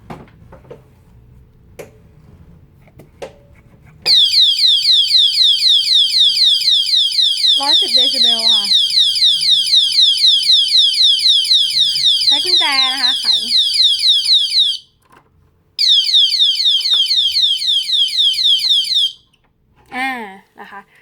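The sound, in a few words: motorcycle disc brake lock anti-theft alarm sounding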